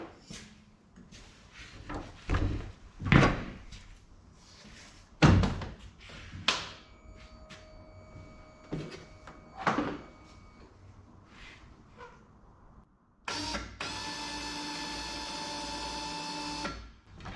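A quad ATV winch reels its cable onto the drum; scattered clunks and knocks come first, then a steady, whining motor hum runs for about three seconds near the end.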